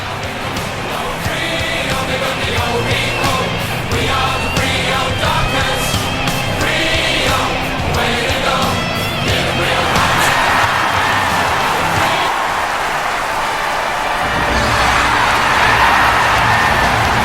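Stadium crowd roaring and cheering in an AFL Evolution PS4 Australian football Grand Final between Port Adelaide and Fremantle, a loud, continuous wash of cheers and shouts filling the whole span.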